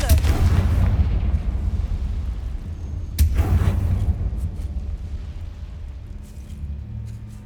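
Fire-spell explosions from the Hogwarts Legacy video game, two heavy booming blasts with rumbling tails over a low droning background.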